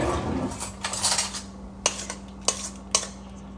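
A utensil whisks omelet eggs with tomatoes and chives in a bowl, soft scraping early, then a few sharp metallic clinks spaced out against a steady low hum.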